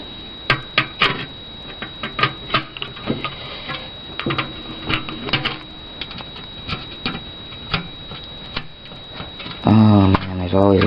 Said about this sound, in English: Just take these screws out.